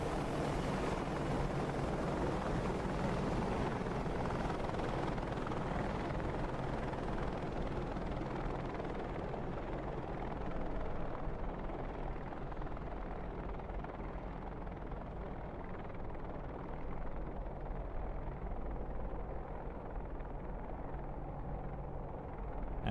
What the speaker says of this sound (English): Gunship 2 now pulls up and turns away from the formation to fly across in front of you